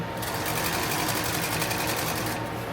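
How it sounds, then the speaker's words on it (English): Sewing machine stitching a tactical plate carrier, running steadily and loud throughout with a continuous mechanical whir, alone without talk. "Start stitching"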